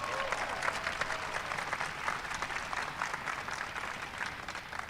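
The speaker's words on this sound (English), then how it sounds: "Give him a big round of applause." A crowd at a White House astronomy night claps for a young science fair winner, a sustained, even patter of many hands that holds steady for several seconds.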